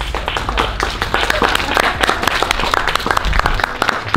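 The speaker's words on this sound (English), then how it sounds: "Okay, a big round of applause." A crowd claps in a big round of applause at a women-in-motorcycling exhibition, loud and close with sharp individual claps, with some voices mixed in.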